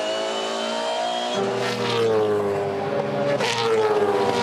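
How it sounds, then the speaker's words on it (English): Onboard V8 Supercar engine at the Perth SuperSprint circuit, 2015, a loud steady harmonic drone that steps up in pitch through upshifts around the lap, with a deeper layer joining partway through and no voices heard. "Riding with McLaughlin now. Can't hear any misfire"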